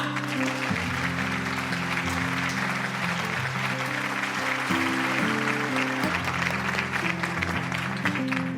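A steady round of applause greets the winner of a cooking contest, with brisk, even clapping that runs throughout beneath loud background music.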